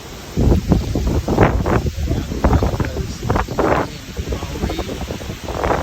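Wind blows through dead trees in a wooded yard beside a rock wall, coming in repeated rushing gusts and rustles of varying strength, close to the microphone and with no voices.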